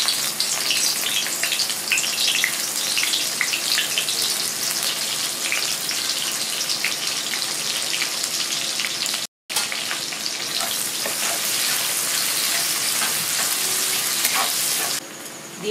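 Onions frying in hot oil in a kadai while making butter paneer masala, a loud continuous sizzle and crackle with stirring, a brief dropout midway and no talking.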